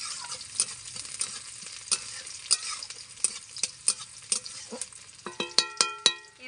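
Chopped onion frying in oil for a pointed gourd bharta, with a bright crackling sizzle and repeated sharp clinks of a spatula against the pan, the taps quickening toward the end.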